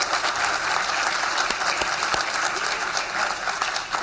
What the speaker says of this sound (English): Let's give another round of applause to all of our presenters and winners.